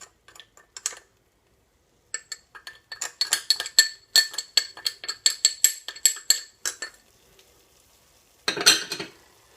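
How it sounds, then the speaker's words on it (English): A spoon clinks and scrapes against a pan while okra curry with spices is stirred, a rapid run of metallic taps in the middle, a few isolated knocks at the start and a final louder scrape. "So give that a bit of a mix."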